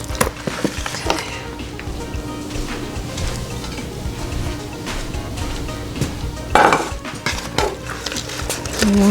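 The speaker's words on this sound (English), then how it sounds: "Now it's time to put this in our baking dish." Apple pie biscuit bake mixture being scraped and spooned into a baking dish, with metal utensils clinking and scraping against the dish in scattered bursts and a sharper clatter near the end.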